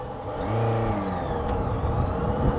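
A Honda motorcycle engine revving on the throttle, a loud close whirring roar that rises and falls in pitch over a couple of seconds, heard alone without talk.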